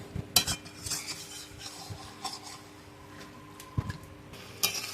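Mutton curry is stirred in a pan on the stove, the spoon scraping and clinking against the metal in scattered, uneven strokes over a soft, steady background.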